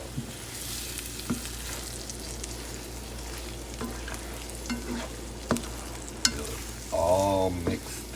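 Chorizo and eggs fry in a pan under steady stirring, a constant sizzle broken by light scrapes and clicks of the utensil, with a brief louder clatter near the end.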